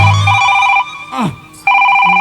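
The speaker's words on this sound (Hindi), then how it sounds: "अब मोर मोबाइल में कैसे मिस कॉल आवत रे" A mobile phone rings with an incoming call during a Chhattisgarhi comedy skit, a steady repeating electronic ringtone that breaks off briefly in the middle and resumes, loud and close with no talk over it.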